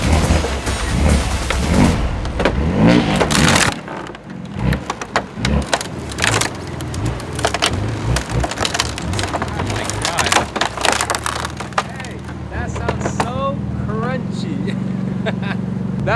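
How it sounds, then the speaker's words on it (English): A tow truck drags a broken Bugatti out of a basketball court, giving a steady engine drone layered with crunching, creaking scrapes and splintering knocks that build and continue throughout, with occasional voices underneath. "That's how you tow truck your Bugatti out of your basketball court."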